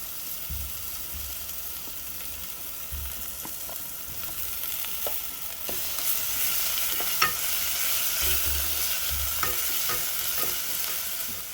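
Garlic and ginger frying with golden onions in a pan for a bean stew, a steady moderate sizzle with repeated stirring scrapes and taps, growing slightly louder partway through.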